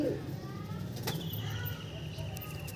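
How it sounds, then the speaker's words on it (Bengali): Soft, low cooing from a black-eyed female Andhra pigeon, repeated in a steady murmur close by, with voices and faint background noise. "এটা আর একটা কালো চোখের ফিমেল পায়রা"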